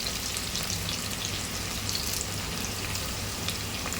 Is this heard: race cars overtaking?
no